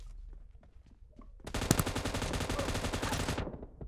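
Automatic gunfire in PUBG Mobile, close and loud: after a quiet stretch with faint background sounds, a rapid stream of shots bursts in and rattles continuously for about two seconds before cutting off sharply.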